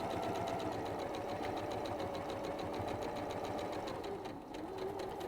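A sewing machine stitches a long seam on a quilt, its needle running in a fast, even mechanical rhythm close by with a steady motor hum and no pauses.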